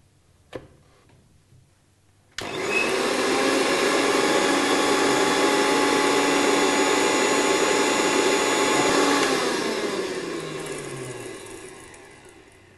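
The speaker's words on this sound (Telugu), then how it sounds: "మిక్సీ జార్లో తీసుకొని మిశ్రమాన్ని మిక్సీ చేసుకోవాలి పొడిలాగా" A mixer grinder powdering a spice mixture in its jar: a click, then a loud steady whine that runs for several seconds, then winds down and fades as the motor stops.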